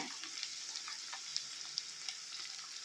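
Chopped ridge gourd going into a pan of frying onions for a gourd and moong dal curry, a soft, even sizzle with a few small ticks and clinks, fairly quiet and without speech.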